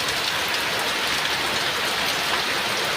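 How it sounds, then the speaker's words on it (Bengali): Heavy midday rain pouring down steadily, a dense, loud, unbroken hiss of drops striking surfaces close by, with no voices. "দেখো কি পরিমাণে বৃষ্টিটা হচ্ছে"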